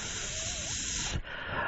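A voice imitates a steam whistle with a long breathy hiss, sustained and fairly loud, briefly dipping before it continues.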